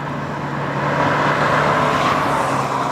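A 2015 Honda Fit with a manual transmission drives steadily, its engine note a continuous close hum with road and tire noise swelling slightly midway, no voices.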